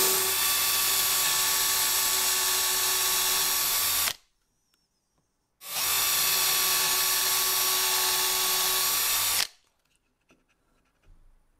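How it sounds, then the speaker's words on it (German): A Wolfcraft countersink bit in a power drill bores into a wooden block in two steady, loud whining runs of about four seconds each, separated by a short silence, with faint handling noise after the second run. "da meinen Wolfcraft Senkbohrer und da bohren wir jetzt einfach rein, auf gut Glück"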